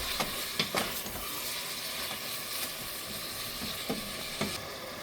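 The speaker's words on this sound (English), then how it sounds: "Stir." Meat pie filling stirred in a pot after ginger, thyme and curry powder go in, a soft background sizzle broken by several scattered scraping knocks of the spoon against the pan.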